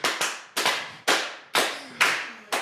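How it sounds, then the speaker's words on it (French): Six or seven sharp, separate claps spaced about half a second apart, close and crisp with short decays, a small group applauding in rhythm on a talk show. "Applaudissons une femme qui dit la vérité."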